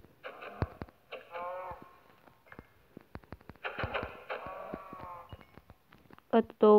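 A cow in the video game Minecraft lets out a short synthetic moo near the end, after stretches of harmonic game sounds and clicks; a person talks throughout.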